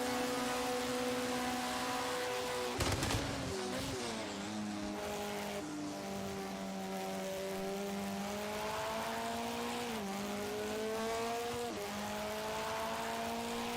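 An LMP2 prototype race car at the 1 hour of Le Mans sim race holds a steady, high engine drone on the straight, with a brief burst of noise early on and pitch shifts through gear changes.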